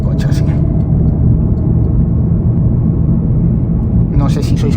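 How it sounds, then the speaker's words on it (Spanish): A VW Golf GTI Mk7 Performance accelerating onto a motorway, its exhaust and downpipe giving a steady, loud low rumble throughout, with a brief burst of higher noise at the start and end. "vamos a pegarle una aceleración para que veáis cómo es acelerar"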